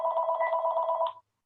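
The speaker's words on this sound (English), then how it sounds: "Apologize for my phone ringing." A phone rings with a steady, buzzing electronic tone that warbles quickly and stays loud and close, then cuts off abruptly after about a second, with no one speaking.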